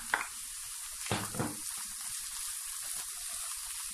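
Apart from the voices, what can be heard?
vegetable and minced meat filling frying in oil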